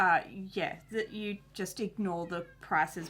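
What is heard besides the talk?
cat meowing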